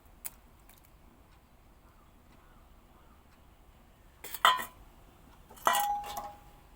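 Three eggs are beaten in a bowl for an onion omelette, heard as two short bursts of clinking utensil against the bowl after a quiet stretch.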